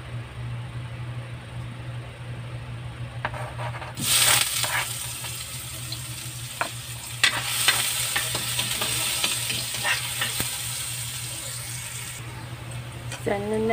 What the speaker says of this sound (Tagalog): Yan, magigisa na tayo.